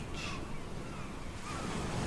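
Sea waves wash onto a beach with wind blowing across it, a steady close roar of surf and breeze heard alone.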